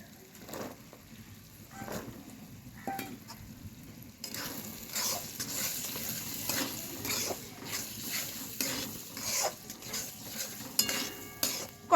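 Green peas are stirred into spice masala frying in a wok, with a soft, steady sizzle and scattered scraping and clinking of a spatula against metal, growing busier and louder partway through, with no talk.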